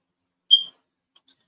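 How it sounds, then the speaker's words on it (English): A single short high-pitched electronic chirp from a smoke alarm, followed by a couple of faint tiny clicks, in an otherwise quiet room. "I know y'all hear my smoke alarm chirping."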